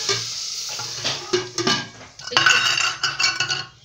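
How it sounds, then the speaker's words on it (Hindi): Hot asafoetida tempering, turned red in oil, is poured into bathua dal and gives a burst of sizzling with stirring and clinks of a metal pot and spoon, close and fairly loud, and no one speaks. "हींग भी लाल हो चुकी है, अब इसको मैं डाल दूंगी, दाल के अंदर डाल दूंगी।"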